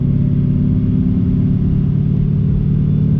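Steady, loud low rumble of an LS V8-swapped BMW E46 driving along, the engine droning evenly and close throughout with no talk.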